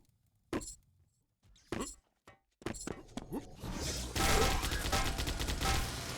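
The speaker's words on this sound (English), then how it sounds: "Huge damage with the Gatling." A Gatling gun in a Quake-style arena shooter opens up after a few scattered sharp game impacts, then roars into a dense, continuous rapid-fire rattle that fills the last two seconds.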